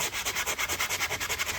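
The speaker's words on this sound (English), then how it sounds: "let's start with some 180 sandpaper or sanding block and go from there" A 180-grit sandpaper block rubs back and forth over a refrigerator's surface, making a steady, even rhythm of close, raspy scraping strokes with no voices.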